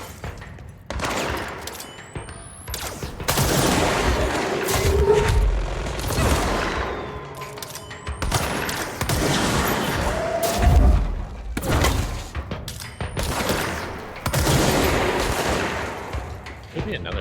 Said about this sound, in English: I hear a machine gun.